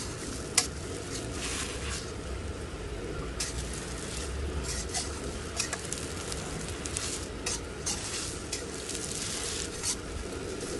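Egg frying in a modest amount of oil in a pan, a steady crackling sizzle with occasional sharper pops and light stirring scrapes, no voices.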